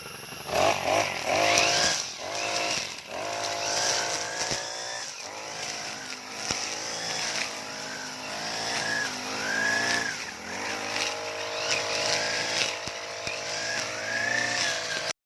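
A motorized grass cutter trims grass with a steady, loud engine whine that rises and falls continuously as the blade works through the growth, with no talk over it.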